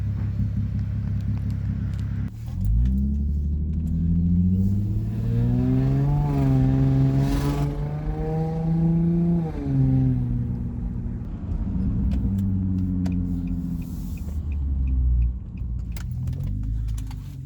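A straight-piped Infiniti FX35 produces a deep, steady engine rumble with rising and falling revs, loud and close for most of the stretch, with no one talking over it.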